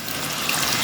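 A glass of water being poured into cooking masala, giving a steady continuous splash and rush of liquid, loud and close, with no talking.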